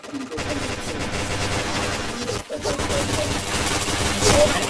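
Rapid automatic gunfire in the shooter video game Point Blank, dense bursts of shots running almost nonstop with a brief gap in the middle, loud and close over faint game ambience.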